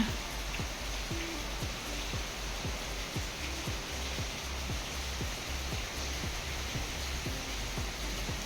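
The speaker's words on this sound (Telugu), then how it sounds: "భలే వాన పడుతూ ఉంది." Heavy rain pours down steadily on a morning when laundry was about to be hung out to dry, a dense, constant wash of drops close by with fat splashes landing in a quick irregular patter throughout, no voices.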